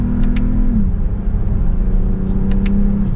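A 2023 Lexus ES 350 F Sport accelerates in second gear, held there with the paddle shifters, its engine a loud, steady drone close by that shifts pitch partway through, with no voices.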